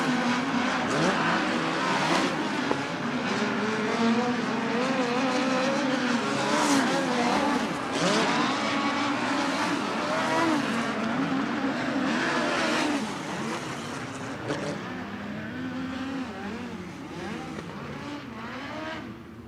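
USAC midget race cars at the Turkey Night Grand Prix at Ventura Raceway roar steadily around the dirt oval, a dense continuous engine drone with revving swells that eases slightly near the end.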